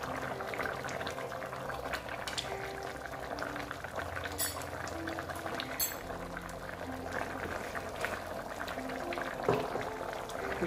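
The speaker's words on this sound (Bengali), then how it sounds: "তারপর সব শেষে আমি দেখো এই যে ঘি দিয়ে দিচ্ছি।" A jackfruit curry simmering in a pan as ghee goes in, with a steady soft bubbling and gentle sizzle that carries evenly throughout at moderate level.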